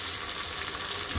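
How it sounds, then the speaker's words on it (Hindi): Chopped onion and garlic frying in hot oil in a pan, giving a steady, fairly loud close sizzle with no voices. "लहसुन को भी हमने प्याज के साथ 1 से 2 मिनट फ्राई कर लिया है"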